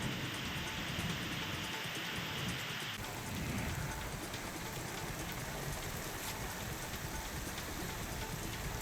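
Steady rain falls in Raigad district, a dense even hiss of drops on surfaces with a faint low rumble beneath, constant throughout and without any voices.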